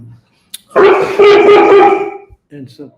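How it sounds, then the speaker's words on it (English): A puppy barks and whimpers in a loud, close burst of several yelps, with a voice speaking just before and after it. "You have to excuse my dog."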